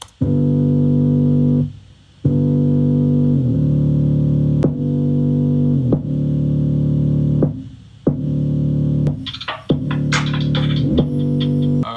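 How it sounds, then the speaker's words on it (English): A gritty, heavily distorted sub bass line pulses in long sustained notes with brief gaps between phrases, loud and alone without any talking. "essentially just a sub bass with like a ton of distortion on it"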